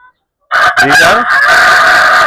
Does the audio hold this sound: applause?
no